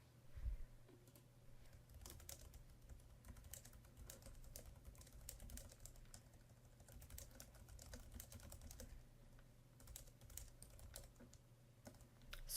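Soft, rapid keystrokes patter on a computer keyboard in an uneven continuous rhythm. The typing is faint and close, over a low background hum.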